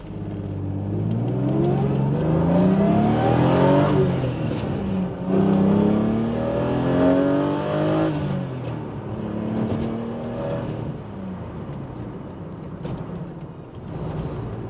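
A BMW E36 with reinforced rear trailing arm bushing pockets accelerates hard onto a freeway, heard from inside the car. The engine climbs steadily in pitch, pauses briefly at gear changes, then pulls again, loud and continuous with no talking.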